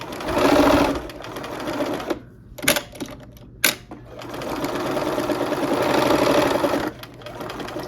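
A sewing machine stitches quilt fabric in fast, steady whirring bursts. It stops with a few short clicks and stutters during a back stitch, then resumes a long continuous run close to the listener.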